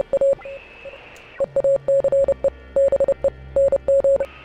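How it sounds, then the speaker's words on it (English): Radio static in the video game Oxenfree carries a loud, steady pattern of short and long Morse code beeps, sharply pulsed and repeating over several seconds. "I mean, I'm hearing Morse code right now."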